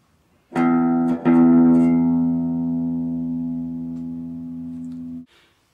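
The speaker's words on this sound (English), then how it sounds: "I'm going to go ahead and demonstrate this using a clean sound. We start with the 6th string played open twice." A single low open sixth-string note on a clean electric guitar rings out sustained after two quick plucks, slowly fading over several seconds before being muted.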